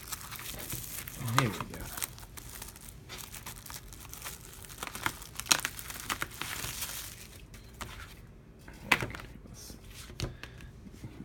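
Plastic shrink-wrap is being pulled and torn off a Shantae: Half Genie Hero Ultimate Edition video game box one-handed, producing intermittent crinkles and sharp crackles close by, with someone speaking briefly.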